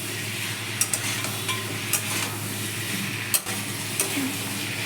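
Frying vegetable stems in a pan being stirred, with a constant sizzle broken by sharp spatula scrapes about once a second, close and clear with no voices.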